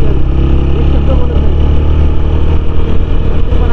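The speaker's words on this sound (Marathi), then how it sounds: "आता ती गाडी गेली ना, हायब्रिड आहे टोयोटाची." A Toyota hybrid car passes on a road near a farm house, giving a loud, steady engine and road rumble close by that dominates without a clear rise or fade.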